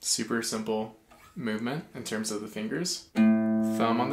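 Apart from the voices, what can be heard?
No everyday noises stand out.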